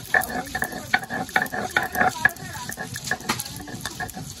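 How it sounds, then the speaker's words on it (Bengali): Pointed gourd (potol) frying in a pan for dinner, a steady sizzle with repeated stirring scrapes and light clinks, close and moderately loud, without talk. "আর এই পাশটা আমাদের পটল ভাজি হচ্ছে রাতের খাবারের"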